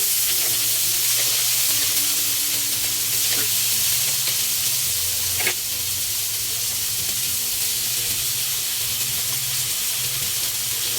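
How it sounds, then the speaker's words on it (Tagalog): Vegetables sauté with ginger, garlic and onion in a pan, giving a loud, constant close sizzle and hiss with faint stirring scrapes and a single sharp knock midway, no voices. "Gisa natin ang gulay"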